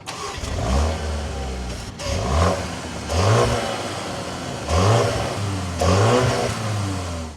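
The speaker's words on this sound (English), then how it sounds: "let's fire this up and take a listen to this M35i" A 2025 BMW X1 M35i engine starts and revs repeatedly, with several loud rising-and-falling blips of about a second each separated by a steady idle, heard up close with no talking.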